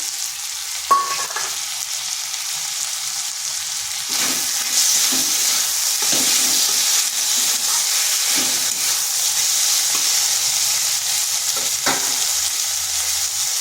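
Potato pieces and a tomato fry in oil in a pan, producing a loud, continuous hissing sizzle that swells as the tomato goes in, broken by occasional clinks and scrapes of stirring.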